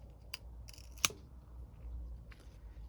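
Pruning shears cut ginkgo bonsai branches in a quiet setting, with a few sharp close snips, one distinctly louder, spaced apart over soft handling noise.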